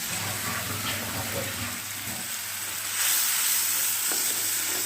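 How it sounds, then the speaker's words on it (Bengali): Spices sizzling and being stirred in a pan while soya curry is cooked, giving a steady close hiss that swells louder near the end, with no voices. "তো এইদিকে মশলা কষানো হচ্ছে"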